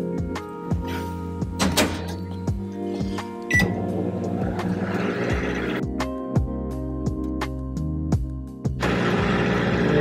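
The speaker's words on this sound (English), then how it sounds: "we're gonna put the 1x PBS and the eye block into the microwave and make it boil" A laboratory microwave oven heating a buffer solution, running with a steady hum broken by several clunks and door thumps, including a louder thud partway through.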